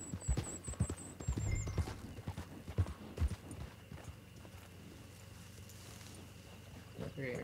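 Horse hooves clip-clopping in the Red Dead Online game, a run of sharp, uneven hoof strikes up close that slows and thins out, with a brief whinny-like tone early on and game ambience behind.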